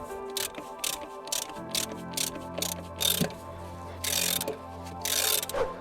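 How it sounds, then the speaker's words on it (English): A 13mm socket ratchet undoing bolts on the throttle body of an Opel Corsa B single-point injection system, with bursts of rapid close clicking separated by short pauses and faint metallic handling noises. "with a 13mm socket, I will undo these two last bolts"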